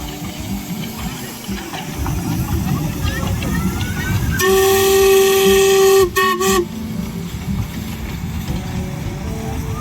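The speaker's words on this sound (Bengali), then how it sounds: "ঝিকঝিক শব্দে দার্জিলিংয়ের টয় ট্রেন ধোয়া উড়িয়ে ছুটে চলেছে" The Darjeeling toy train steam locomotive hisses and rumbles around the Batasia Loop, with a loud sustained whistle blast in the middle that cuts off sharply, voices murmuring in the background.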